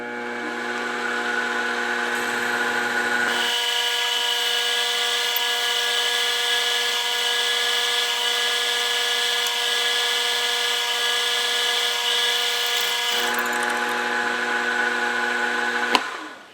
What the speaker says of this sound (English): So I'm just going to put a tapping hole in here, drilling.